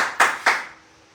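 Two sharp, close hand claps ring out in quick succession in a church, each fading into a short room echo.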